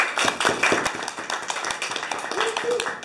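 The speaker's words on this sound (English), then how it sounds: "round of applause for Shabbir" A crowd at a coders' talk claps steadily and fairly loudly throughout, individual hand claps audible in the dense applause, with a few voices murmuring underneath.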